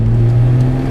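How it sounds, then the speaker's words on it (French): A car engine holds a steady, loud, close drone with a strong low hum, sustained through the brief moment without any talking. "On prend des gaz de plus en plus fort."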